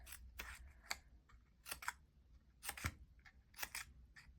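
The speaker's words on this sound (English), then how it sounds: "take some scissors and literally just cut" Several short, crisp snips of scissors cutting paper, coming in irregular bursts at close range with quiet pauses between cuts.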